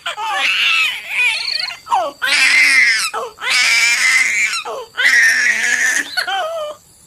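A baby girl cries in loud, wailing bursts separated by short gasping pauses, close up and alone with no talk over it.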